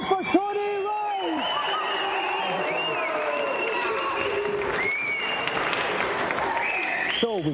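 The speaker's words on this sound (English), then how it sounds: "And a round of applause again for Tony Rose!" A studio audience on a British video game TV show applauds and cheers throughout, with electronic game music and sound effects over the crowd and a presenter's voice briefly on top.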